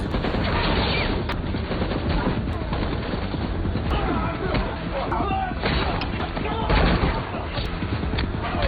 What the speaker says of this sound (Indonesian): Tiba-tiba di luar ada sekelompok orang yang menembaki Mike.